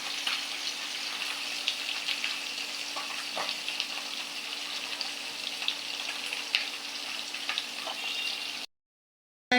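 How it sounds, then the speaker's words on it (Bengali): Fish frying in a pan in a village kitchen makes a steady, soft hiss of sizzling oil with occasional small pops, continuing evenly before cutting off abruptly into silence. "এই মাছগুলো ভেজে নিচ্ছি"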